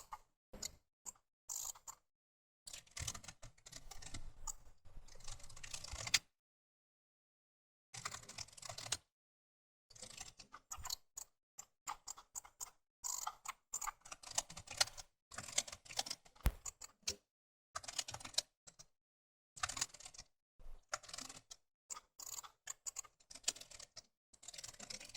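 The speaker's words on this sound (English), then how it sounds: "I will type all other subtasks" Computer keyboard typing in quick bursts of clicking keystrokes, close and fairly soft, separated by short silent pauses.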